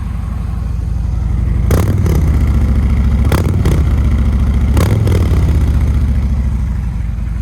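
A stock Harley-Davidson Milwaukee-Eight motorcycle engine, a 117, runs close by with a deep, loud, lumpy idle and three short blips of the throttle, each a quick double rev.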